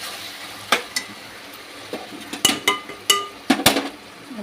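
Okra frying in a pan for an Andhra-style okra tomato curry, a soft steady sizzle broken by a series of sharp clinks and scrapes as a utensil stirs and strikes the pan, close and irregular, with no talk.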